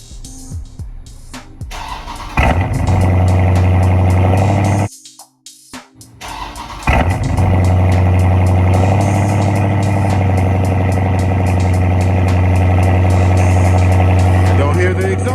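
A car with a check engine light cranks and catches, idles, cuts out briefly, then starts again and settles into a steady, loud idle close by.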